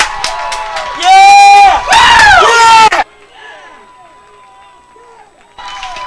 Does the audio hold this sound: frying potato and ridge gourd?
no